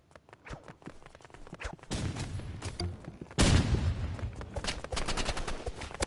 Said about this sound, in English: A well-placed grenade.